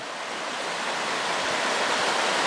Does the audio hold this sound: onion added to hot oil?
no